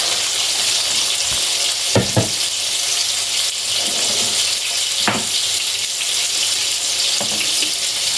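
Kebabs frying in oil inside a handi pot, a steady close sizzle with a few sharp clinks and stirring knocks scattered through it, no voices.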